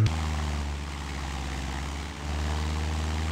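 A propeller aircraft engine holds a steady, loud, droning roar at full power in the Flight Simulator 2018 FlyWings game, with only a slight dip partway through.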